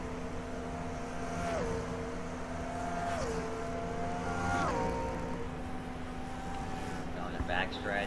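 Stock cars race at the Coca-Cola 600 in the 2006 Cup Series, engine notes rising and falling steadily over a continuous crowd and track roar, with a commentator speaking over the noise.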